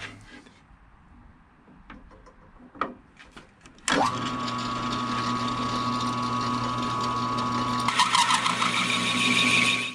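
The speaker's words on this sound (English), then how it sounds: "Step 1 is to cut the circumference of the counterbore using the 38 millimeter hole saw." A 38 mm hole saw, taped to a 1/4 inch depth, cutting a counterbore: after a few quiet clicks and knocks, a machine spins up to a loud, steady whirring drone with a grinding edge that intensifies near the end.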